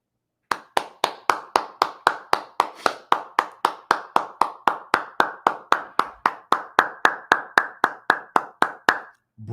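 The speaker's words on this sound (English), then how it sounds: "I'm giving you an applause" A single person claps slowly and evenly, about thirty crisp, close hand claps in a steady rhythm with no other sound, ending abruptly.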